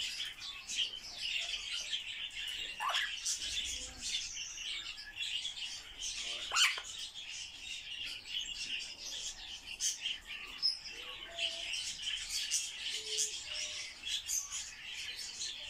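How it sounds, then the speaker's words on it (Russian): Affectionate pet birds chirp and tweet continuously indoors, a busy, fairly faint stream of short high calls with occasional louder squeaks, no talking heard. "Любвеобильные птицы."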